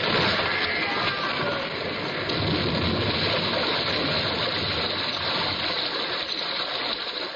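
Water pours through a breach in a ship's starboard bow after a whale strikes it, a loud, continuous rushing gush like a torrent, steady and close throughout.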